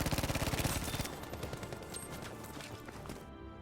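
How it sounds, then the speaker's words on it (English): A Japanese Nambu Type 2A submachine gun in Battlefield 5 fires a rapid, loud burst of about a dozen shots within a second, then echoes and rumbles away with a fading tail. "we're going to be checking out the Nambu Type 2A in full detail. A Japanese submachine gun for the medic class"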